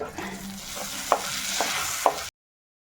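A spoon stirs a simmering curry of elephant foot yam and pumpkin in a pot, with a soft bubbling hiss and a few sharp knocks against the rim before it stops abruptly.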